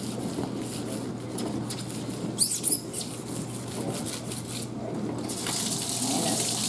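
Running tap water splashes steadily over a cutting mat being rinsed in a sink, with a brief clatter partway through and the flow growing fuller toward the end.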